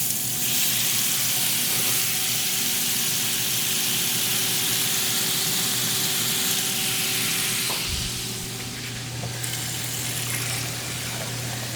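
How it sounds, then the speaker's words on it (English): Shrimp frying in a hot pan for a spicy dish, a loud continuous sizzle with a steady hum beneath, the hiss shifting and dropping slightly partway through. "All right, adding the shrimp."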